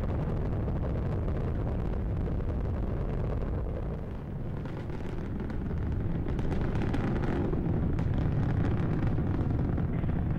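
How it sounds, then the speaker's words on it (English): Space Shuttle Discovery's engines roar during launch as a continuous, distant, wind-buffeted rumble, dipping briefly mid-clip before swelling back, with no voices over it. "Discovery's engines are throttling down as the orbiter passes through the area of maximum pressure on the vehicle"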